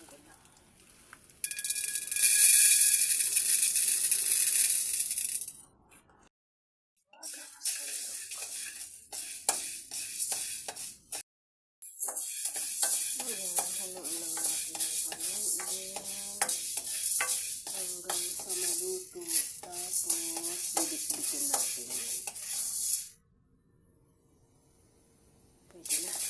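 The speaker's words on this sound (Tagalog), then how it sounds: "Magsangag tayo ng munggo." Dry mung beans roast in a pan, stirred in bursts of gritty scraping and rattling hiss that stop and restart a few times, with a voice speaking in between.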